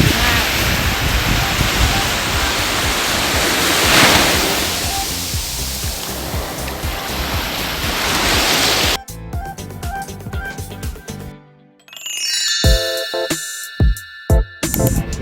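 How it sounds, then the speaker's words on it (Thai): Sea waves wash loudly and continuously onto the beach at Koh Kood, Thailand, for several seconds, then the surf gives way to music. "กลางเสียงคลื่นทะเลสวยงาม"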